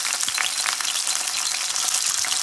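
Pieces of salmon dropped into hot coconut oil, hissing and crackling in a steady bright sizzle with scattered pops throughout, close up and without talk.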